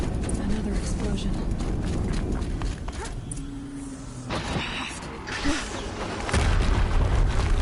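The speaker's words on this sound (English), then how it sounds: "Another explosion." Booming explosions and clanking mechanical noise from the Horizon Zero Dawn video game, a dense, loud rumble running throughout with a heavier blast building near the end.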